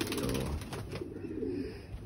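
Pigeons coo from their perch, low throaty calls rolling close by in a continuous murmuring pattern, with no voices heard.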